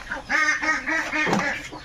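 Quarrelling domestic ducks let out a rapid run of harsh, nasal quacks and honks, close by and loud, in quick repeated bursts with no talk.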